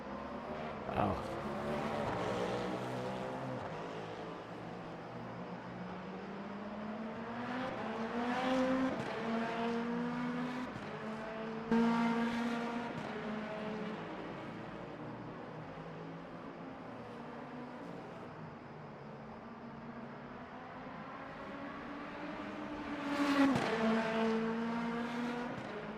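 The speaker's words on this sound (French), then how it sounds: "Je n'ai pas monté le son trop fort du moteur, mais on l'entend suffisamment." A Lamborghini V8 race car in Le Mans Ultimate drones at moderate volume around the Imola circuit, its engine pitch climbing and dropping through gear changes with a few sharper revving peaks.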